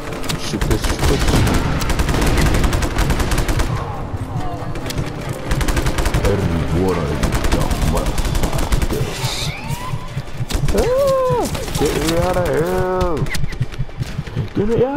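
Rapid automatic gunfire and explosions in the Just Cause 3 video game, loud and sustained bursts rattling almost continuously, with vehicle engine noise and voices mixed in.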